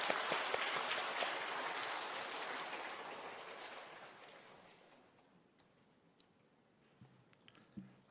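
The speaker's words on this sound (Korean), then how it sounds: "우리 선교사님 보내주신 하나님께 영광 박수 올려드리겠습니다" A church congregation applauds during a Sunday worship service, a broad wash of clapping that gradually fades out, leaving a quiet room with a few faint knocks and stray sounds.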